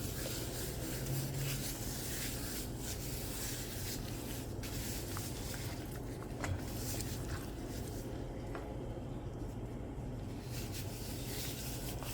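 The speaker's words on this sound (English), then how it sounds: "You're going to come in with the powder seasoning now, and you're going to rub it on the outside" Powder curry seasoning is rubbed by hand over oiled roast pork, making a soft, continuous brushing rasp, quiet and close, with no talking.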